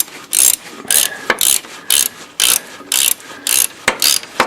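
A ratchet ring spanner turns bolts on a Citroën Traction engine, a close, crisp clicking burst repeated about eight times in a steady back-and-forth rhythm, with no voices.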